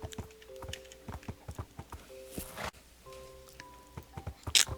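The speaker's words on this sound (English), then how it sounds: "We'll definitely be keeping this horse." A Minecraft horse gallops along in steady, rapid clip-clop hoofbeats, close and moderately loud, with a few short game tones layered in and no voices.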